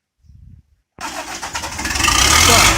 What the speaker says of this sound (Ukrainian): заводимо ми також не з кабіни, бо поламався цей ключик